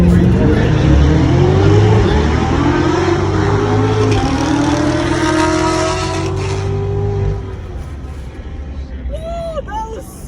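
Race car accelerating hard down a raceway, loud and close, its engine climbing through rising revs with tire noise, then fading with a few short squeals at the end.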